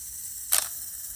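Nikon FG 35mm film camera shutter firing on its self-timer: a single crisp mechanical click-clack near and alone, a brief sharp burst over a quiet steady background hiss.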